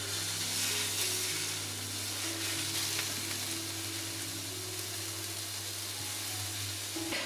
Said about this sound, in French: Je mets un petit peu d'huile d'olive et je vais venir saisir toutes mes tranches dessus-dessous.